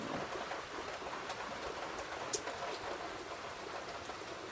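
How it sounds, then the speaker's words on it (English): Rain falls at night in a soft, steady patter heard from indoors looking out, faint and even with a few sharper drops standing out, and no talking over it. "Guys, it's raining. I see it raining out there."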